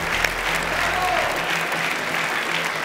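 Audience applause at a gala concert of a national singing competition, a dense steady patter of many hands clapping, moderately loud and continuous, with a low hum beneath.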